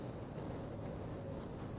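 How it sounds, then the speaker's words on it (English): Steady low rumble of the tram ride through the Black Mesa facility in Half-Life, a continuous rolling rail drone with faint mechanical texture, fairly quiet and even throughout with no talk. "Finally, the tram ride's over"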